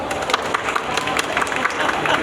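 Audience applause at a panel session, a dense sustained patter of many hands clapping at moderate loudness.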